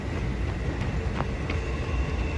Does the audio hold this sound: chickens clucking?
no